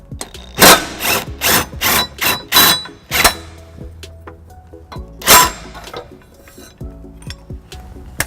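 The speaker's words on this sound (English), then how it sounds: "next I'll be using the cordless impact with a 6-inch extension and 11 millimeter" A cordless impact wrench with an extension and 11 mm socket removing the tow hook bolts on a 2019 Toyota Highlander hammers in a close series of loud rattling bursts, followed by one more burst and quieter clinks.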